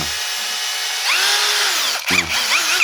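A brushless electric drill spins up close, its motor whining and shifting pitch as it revs, with a brief dip before speeding up again; no one speaks.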